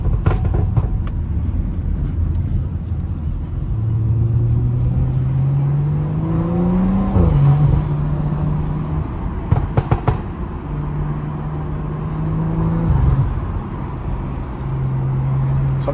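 A BMW F30 car accelerating hard with paddle-shifter gear changes, its engine note climbing, dropping sharply at each shift and climbing again, loud and steady from inside the cabin.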